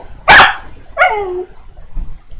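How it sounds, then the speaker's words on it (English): A dog gives one sharp loud bark, then a rising-and-falling whiny yelp, followed by faint small sounds, indoors and close. "The dog says hi."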